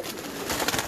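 Ferozpuri pigeons coo softly nearby in a brief, low, rolling murmur against a steady background hiss.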